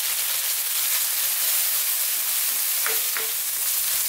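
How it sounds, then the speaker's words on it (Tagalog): Onion and tomato sauté in a pan as the base for squid adobo, giving a loud, continuous sizzle with a few soft stirring scrapes near the end. "gigisahin na natin ito ng mga ilang minuto"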